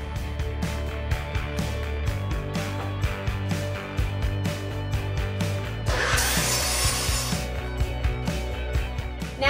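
Wood is cut for the short runners of a round dining table base with a power saw, a steady close mechanical whir with rhythmic pulses and a harsher, brighter cutting burst near the end.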